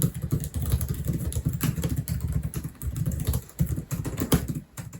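Steady, soft keyboard typing on a Gigabyte Aorus 17 XE4 gaming laptop, rapid, continuous keystrokes on soft, springy keys, close and fairly loud, with no voices.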